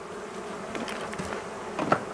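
Honeybees buzzing around a small beehive on a hot summer day, a close, steady swarm hum with a few individual bees flying past louder near the end.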